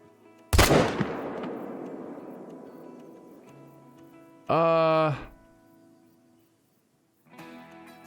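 A hunting rifle fires once at a deer in the Call of the Wild video game, a sharp loud crack at the start followed by a long decaying echo rolling across the landscape, with a brief tonal game sound afterward.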